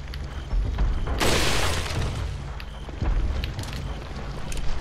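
A single loud gunshot blast in Resident Evil 4 Separate Ways, a sudden broad burst over a low rumbling background that trails off over about a second.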